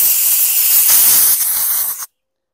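Compressed air hisses in a loud, close burst for about two seconds over a part from a 2019 Craftsman M260 lawn mower with a 7.25 engine, then cuts off abruptly into silence.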